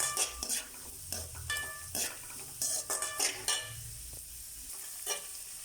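Beans and onions sauté in a pan while a spoon stirs and scrapes against the metal in irregular bursts, with a soft sizzle underneath.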